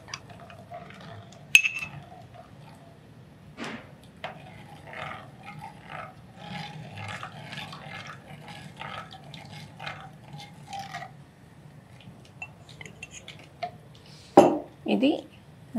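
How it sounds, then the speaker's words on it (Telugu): Stirring ragi java, a finger-millet porridge, in a clay pot, with soft scraping and occasional clinks of a utensil against the pot under ongoing talk, plus a couple of sharper knocks. "మీరు యాడ్ చేయండి, నేను కలుపుతూ ఉంటాను."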